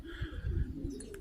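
Tippler pigeons out on a training flight give soft, low cooing sounds over a quiet outdoor hum, with faint brief chirps near the end and no speech.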